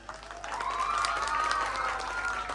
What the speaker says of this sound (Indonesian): Tepuk tangan dong buat Ananda Rama.